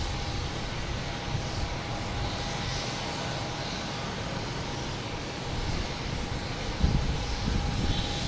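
A United airliner taking off at Boston Logan gives a steady, distant engine roar that holds level throughout, heard alone without voices.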